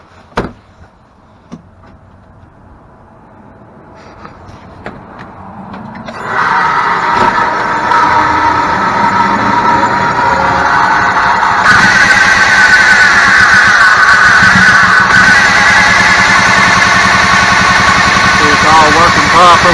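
An EZGO golf cart that was pulled from a pond sits idling after a few knocks and clicks, its engine settling into a loud, steady, close drone with a faint whine on top and a voice nearby.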